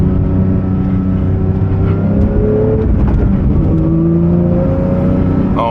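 2024 Porsche GT3 engine pulling hard under acceleration while driving, a steady loud drone with tones climbing through the revs, dipping briefly mid-run before climbing again, continuous and close without talk.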